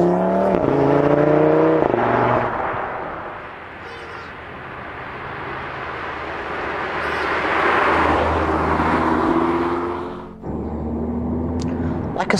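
Audi TT RS coupé engine revving and droning with rising and falling pitch sweeps, loud and close, sustained through the whole stretch with a brief dip near the end.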